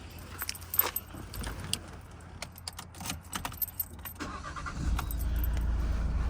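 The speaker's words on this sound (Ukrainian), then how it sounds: "Отак класно стартує, працює рівненько взагалі без зауважень" Keys jingle before a 2019 Nissan Qashqai with a 1.6 diesel engine starts near the end, settling into a steady, low idle.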